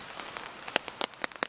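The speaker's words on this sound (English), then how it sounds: "Constant rain." Rain falls steadily during wild camping in Snowdonia, heard as a soft, constant patter with sharper nearby drops ticking on a surface here and there, fairly faint and with no voices.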